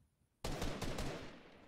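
Fortnite gunfire in a competitive match: after a quiet moment, a loud, close burst of rapid shots breaks out, with several sharp cracks inside a dense, sustained roar of fire.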